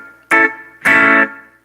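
Two bright reggae electric guitar chords strummed clean, each ringing out with a washy reverb tail that fades slowly into quiet.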